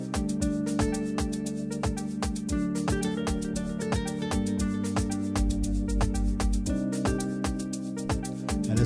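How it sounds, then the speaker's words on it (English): Full amapiano remix with a nylon-string guitar layered in, steady log-drum bass and percussion hits driving a dense, loud groove while sustained chords shift every couple of seconds. "once the guitar is in the song, it sounds like this"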